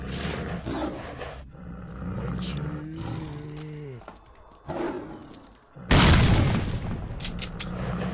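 A grenade explodes in the video game S.T.A.L.K.E.R. Shadow of Chernobyl, a sudden loud booming blast with a rumbling tail, following a stretch of game sounds and a brief voice.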